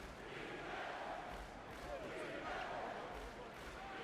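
A video game basketball crowd in NBA 2K22 roars after a dunk, with a dense, steady wash of cheering and arena noise throughout and commentary mixed in.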